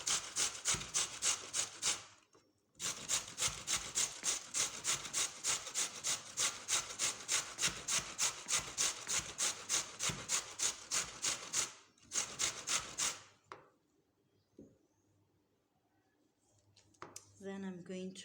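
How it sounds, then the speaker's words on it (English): A carrot is rubbed back and forth on a hand grater in fast, even, rasping strokes, close and loud, with two short pauses before the scraping stops; a voice speaks faintly near the end. "I'm gonna continue grating like this"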